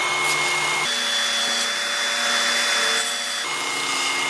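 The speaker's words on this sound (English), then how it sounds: "I'll grind this down just to get it so you can see the metal." A metal straight razor blank is ground down on a power grinder, giving a loud steady whine with shifting pitch as pressure on the workpiece changes.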